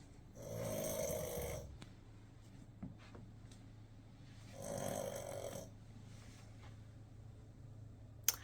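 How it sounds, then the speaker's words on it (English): A French Bulldog named Teeny, who has had two airway surgeries, snores and breathes noisily nearby, two long raspy snorting breaths several seconds apart with quieter wheezy breathing between them. "That's not me breathing, that's my French Bulldog, Teeny."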